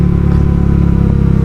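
A Honda Vario 150 scooter with a Kenziro aftermarket exhaust idles loud and close, its steady low engine drone pulsing evenly with a slight rise in revs throughout.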